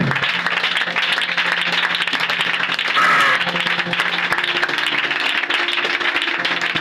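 A church congregation claps and applauds steadily through a spirited prayer session against witchcraft, a dense continuous wash of hands filling the room with no clear break.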